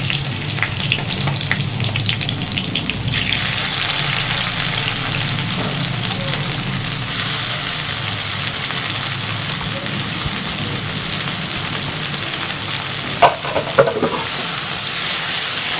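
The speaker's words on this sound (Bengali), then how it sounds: "পেঁয়াজটা ভেজে নেবো একটু হালকা লাল করে" Chopped onion frying in oil while cooking a spicy crab curry, a loud continuous hiss and crackle like heavy rain, close and steady throughout, with faint clinks near the end.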